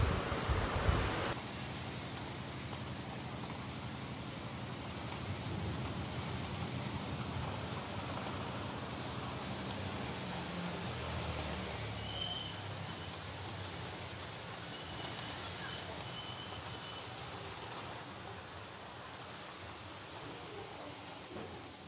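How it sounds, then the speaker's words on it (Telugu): Heavy rain pours steadily and densely throughout, a continuous hissing wash of drops on surfaces with a brief louder splash at the start and no voices over it. "అంత పెద్ద వర్షం అండి. అందుకే మీకు ఒకసారి చూపిద్దామని నేను షూట్ చేస్తున్నాను."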